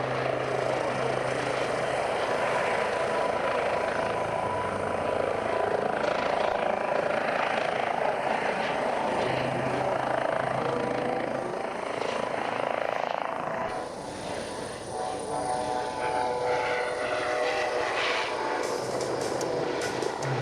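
A helicopter flies at the Pardubice airshow in the Czech Republic in wet weather, its rotor drone loud and continuous, sweeping in pitch as it passes, then easing slightly toward the end.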